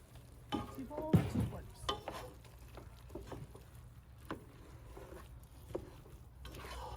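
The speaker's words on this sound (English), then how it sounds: "I'm gonna stir it up, and then I'm gonna let it stand for 2 minutes" Jambalaya being stirred in a pot on a camping burner: quiet scraping and a few sharper clinks of the spoon against the pot, with a faint sizzle underneath.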